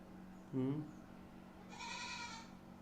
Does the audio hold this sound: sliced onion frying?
no